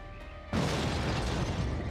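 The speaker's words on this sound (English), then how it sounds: "Make this bomb count." A bomb goes off in the riot game Tonight We Riot: a sudden loud blast after a quiet moment, followed by a sustained crackling, rumbling roar that fills the rest of the moment.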